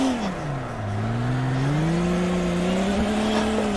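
Engine in a VR drifting game revs steadily at low speed while the car stands still with endless wheel spin, a continuous rising and falling drone with tire whir, loud and close throughout, no talk.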